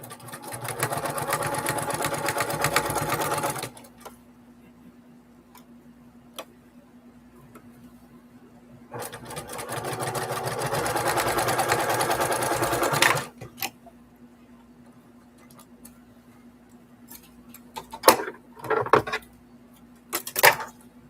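Electric sewing machine stitching quilt pieces together in two steady bursts of rapid mechanical whirring, separated by a quiet pause, followed by a few sharp handling clicks and knocks at close range.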